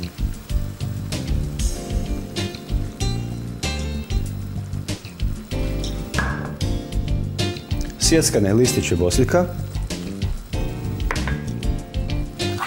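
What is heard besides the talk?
tomato sauce simmering in a pan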